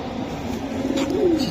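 Silver Giribaz pigeons at a loft produce a low rolling coo that rises near the end, heard over a steady ambient hum.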